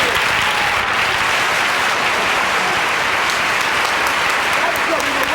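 Broadway theatre audience giving dense, sustained applause, a steady loud wash of clapping from a large crowd that holds level from start to finish.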